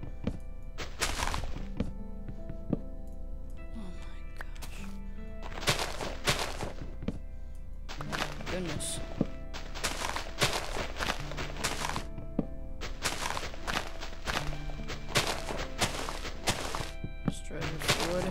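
Wood blocks being chopped in the Minecraft video game, heard as a steady run of short, dull thunks close by, repeating in quick bursts against background game tones.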